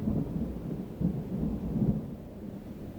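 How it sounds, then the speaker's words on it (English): Low, steady thunder rumbles on in the tail of a passing storm outdoors, a soft continuous roll with slight swells, no voices. "Bit of thunder left."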